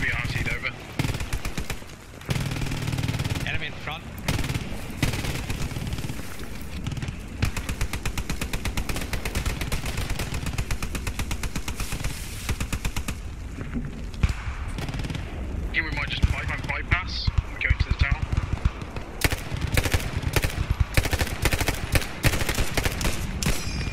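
Machine gun fire in the WWII shooter Post Scriptum rattles in rapid, sustained bursts with overlapping rifle shots and fusillades throughout, loud and close, while players talk over the shooting.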